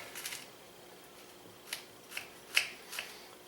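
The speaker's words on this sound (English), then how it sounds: "I'm going to cut each half in half." A knife slicing through homemade Rice Krispie treats, cutting each half in half: a few faint, soft crunching cuts spaced about half a second apart, quiet and close, with no talking.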